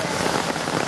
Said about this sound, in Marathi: सकाळपासूनच पावसाने थैमान घातलेला आहे